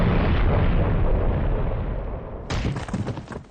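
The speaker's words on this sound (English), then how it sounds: "The second I yelled, a powerful blast blew me back." A powerful explosion blast in the video game Steins;Gate 0 roars as a dense, loud rumble for over two seconds, then shifts into a harsher, crackling burst of debris-like noise.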